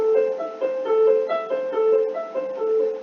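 Piano notes played detached without a slur, each short tone separated by a small gap, in a brief repeating melodic pattern at moderate volume and heard alone.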